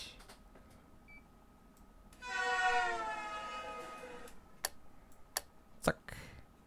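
A Train Simulator 2018 train on the Südbahn from Wien Meidling starts up with a sudden rising electric whine that fades gradually, followed by a few sharp clicks and ticks from the cab over a quiet background hum.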